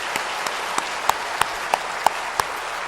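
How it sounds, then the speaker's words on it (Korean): A church congregation claps in unison during a Sunday service: about eight sharp, evenly spaced claps in a steady beat, moderately loud and heard alone. "하나님께 영광의 박수,"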